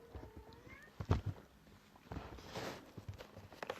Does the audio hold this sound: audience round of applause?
no